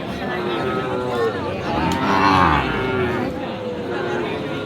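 At a cattle market in Aftabganj, Dinajpur, selling Sahiwal bulls and calves, a cow lets out a drawn-out low moo amid a busy outdoor crowd, with voices murmuring and chattering steadily underneath.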